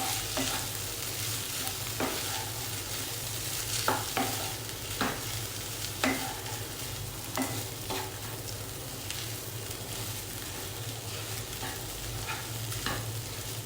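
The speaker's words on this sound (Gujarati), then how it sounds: "હવે સરસ રીતે મિક્સ કરી લઈશું" Spiced Kutchi-style vagareli khichdi is stirred in a pan, a spoon scraping and knocking in irregular clicks over a quiet sizzle and faint low hum, with no voices.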